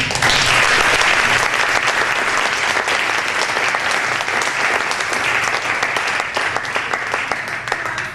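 A theater audience applauds after an amateur stage performance, a loud, dense, continuous roar of clapping holding steady for several seconds before easing slightly at the end.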